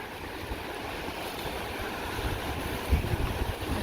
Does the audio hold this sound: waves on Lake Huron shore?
yes